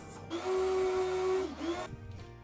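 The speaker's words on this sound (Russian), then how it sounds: "Для этого я и буду использовать самую обычную кофемолку. И перемолю в ней кокосовую стружку." A small electric coffee grinder runs briefly on coconut flakes being milled into flour, a steady high whine for about a second that rises, drops and trails off into quiet.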